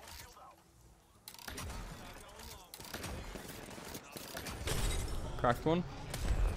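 Bursts of covering gunfire crack through an Apex Legends match, with rapid shots and mechanical clatter building in intensity while a player speaks briefly over the action.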